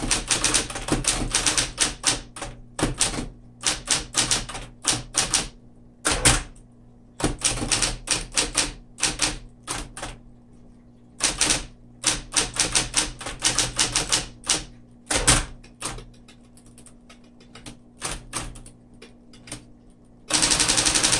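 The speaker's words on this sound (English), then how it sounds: "this is the typing demo for it" Rapid clacking of a 1961 Smith Corona Model 200 manual typewriter, bursts of sharp keystrokes in quick runs separated by brief pauses, close and loud.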